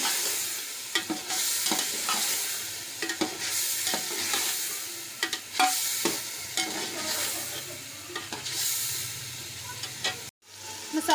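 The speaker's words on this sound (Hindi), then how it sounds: "मसाला अच्छे तरीके से फ्राई हो रहा है।" Masala for Lahori chicken pulao fries in a pot and is stirred, giving a steady close sizzle broken by repeated scraping stir strokes, with a brief drop in sound near the end.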